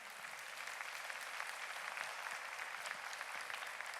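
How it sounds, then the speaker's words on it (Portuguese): A church congregation applauds in a dense, steady wash of clapping that holds at an even level throughout, moderately distant with no clear individual claps standing out. "Quer aplaudir, aplauda de verdade"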